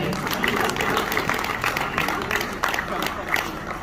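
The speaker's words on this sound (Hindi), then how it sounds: "इनके लिए जोरदार तालियां बजाएं" An audience at a Hindi poetry recital honoring martyrs claps steadily, a dense wash of applause that holds at an even level throughout.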